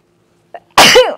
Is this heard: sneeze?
yes